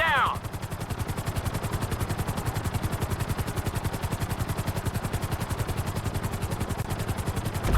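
Helicopter in the GTA 5 video game flying at full speed, nose tipped down, its steady rapid rotor thump pulsing evenly and loudly throughout with no break.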